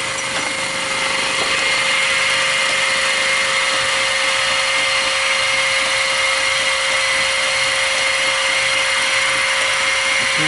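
Fly cutter climb milling a metal workpiece on a mini mill, a steady high whine with a dense chattering cut, continuous and close with no talking.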